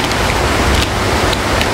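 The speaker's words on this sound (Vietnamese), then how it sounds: "Tại vì mưa ấy nó hơi ồn." Heavy rain hisses loud and steady outdoors, a dense, continuous wash of drops with no pauses and no voices.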